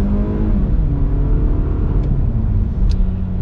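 A 2020 Toyota Camry AWD accelerating, a steady loud engine drone with rising harmonics that climbs through the whole stretch, heard from inside the car with no speech.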